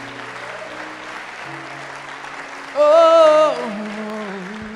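A church congregation applauds in a steady wash of clapping, moderately loud and continuous, while a single voice briefly exclaims over it.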